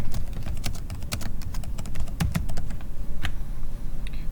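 Fast, steady typing on a computer keyboard while entering a title into a Google Sheets document, a dense run of close clicking keystrokes with no talking.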